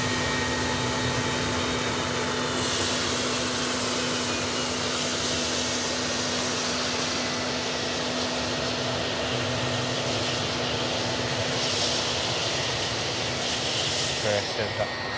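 Jet airliner with Rolls-Royce RB211 engines taxiing toward the terminal, a steady loud whine and roar holding throughout, with no break in the engine noise.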